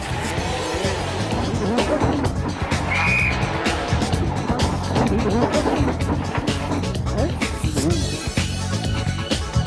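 A rally car skids across snow on a Swedish stage, its engine revving hard with tyre squeal and skidding noise, loud and close, with a narrator talking over it.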